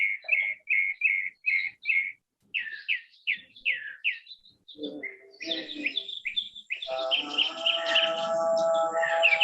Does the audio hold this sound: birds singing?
yes